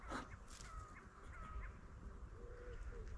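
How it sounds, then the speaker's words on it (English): A small bird calls outdoors near a blackberry patch, giving a few short, clear, chirping notes over soft wind and distant background noise. Nobody talks. "Little bird there."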